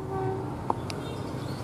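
Passenger train hauled by CC 18308 locomotive departing Probolinggo station, a brief faint horn tone and a short whistle-like squeal over a low rumble of rail movement.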